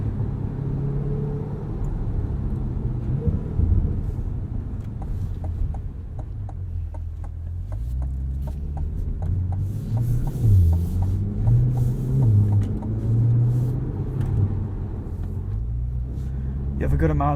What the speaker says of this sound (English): It's almost more fun just driving around using the paddle shifters in this car.